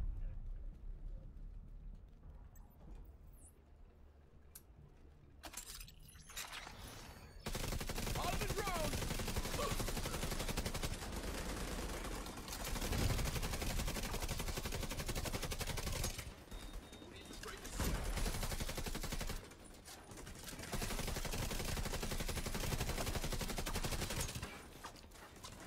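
An automatic turret and gunfire in The Division 2 video game: after a quiet start, dense rapid bursts of shots begin, continuing in long loud stretches with brief gaps.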